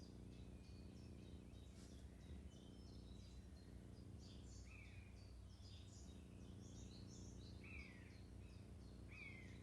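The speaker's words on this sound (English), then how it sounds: "Hope you can hear the birds singing as well." Birds sing and chirp in woodland with several faint, scattered high calls and trills over a steady low background hum, distant and quiet.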